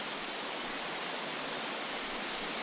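Swollen river water at Poza Los Coyotes near Liberia, Costa Rica rushes into pools in rainy season after heavy overnight rain, a loud, constant broadband roar with no pauses.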